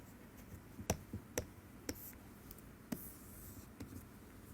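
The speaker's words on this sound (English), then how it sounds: "So I'm going to write dimensions" A pen taps and scratches on a surface as physical dimensions are written out, several sharp isolated knocks spaced irregularly, quiet and close with no talk.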